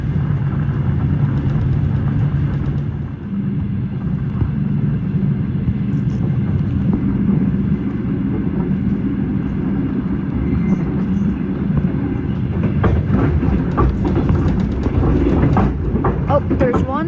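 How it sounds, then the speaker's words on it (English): Inside a quiet, newer-model train riding from Skirotava to Ogre, a steady low rumble of the carriage continues throughout, with rattling clicks rising toward the end. "We're in the train."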